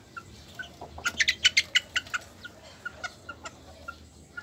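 Young Sebright bantam chickens and a rooster, about six weeks old, give a quick burst of bright clucks and chirps, then a few spaced single calls, close and clear with no talking.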